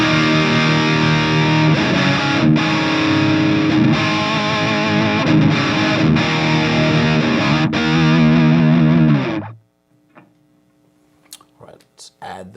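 A bass guitar plays its normal tone with no pedal, a thick, gritty sustained sound with rhythmic note changes for about nine seconds before stopping, followed by faint handling noises.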